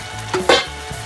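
Meat dropped into a gently boiling creamy sauce in a pan, a brief burst of hissing sizzle over a low bubbling background, close and short, no speech.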